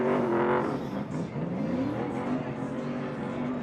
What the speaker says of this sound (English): More donuts in the skid pad.